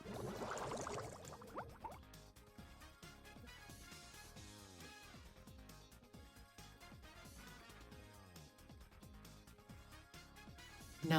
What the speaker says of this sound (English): Now let's add water to our next test tube and see who we get.